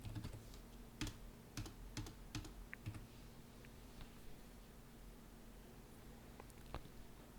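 Quiet computer keyboard typing during data entry in accounting software, a cluster of crisp key presses early on thinning to occasional clicks, close and soft against a low steady hum.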